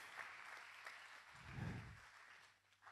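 Applause from a church congregation, faint and distant, swelling briefly in the middle and then fading.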